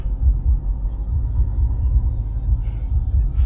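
A car engine rumbles steadily at close range, a deep continuous low drone with slight swells and no clear speech over it.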